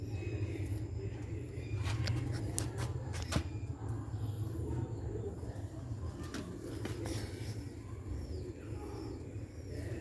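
Ring pigeons kept in a loft coo softly and repeatedly at close range. Their calls come over a low background murmur, with occasional sharp clicks and light rustling.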